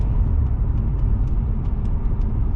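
Steady low rumble of a BMW E36 328i with a new exhaust while driving, a muted, sporty engine drone from inside the car with faint clicks and rattles above it and no talk.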